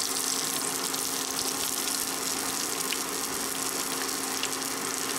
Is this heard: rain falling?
no